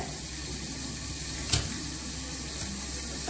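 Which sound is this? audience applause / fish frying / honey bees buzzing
fish frying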